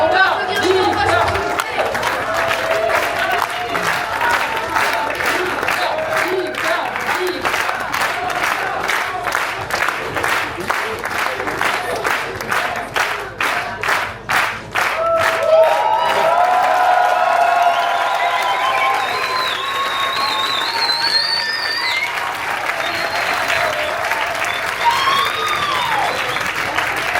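Audience applause for a speaker at a gathering about tractors, a dense, steady clapping from a sizeable crowd lasting throughout, with some cheering and voices mixed in.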